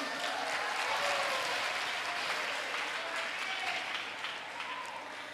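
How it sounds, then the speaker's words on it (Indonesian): A crowd claps warmly for a band at a Ramadan gathering, steady dense applause that gently fades toward the end. "Berikan tepuk tangan yang meriah"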